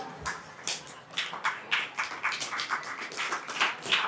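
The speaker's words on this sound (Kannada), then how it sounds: "ಎದಕ್ಕೆ ಚಪ್ಪಾಳೆ ಹೊಡೆದ್ರು ನೀವೆಲ್ಲ?" A crowd at a religious discourse during a village fair breaks into applause: a steady wash of many hands clapping at middling distance, fairly soft, rising and falling in small swells without speech.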